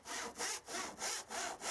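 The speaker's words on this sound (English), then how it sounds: "It's an awkward cut on the curve and a very dusty sanding to finish off." Wood is sawn along a curve in wooden masking for an acoustically transparent home cinema screen, with steady back-and-forth strokes of about five rasping pulls in quick rhythm, close and clear with no talk.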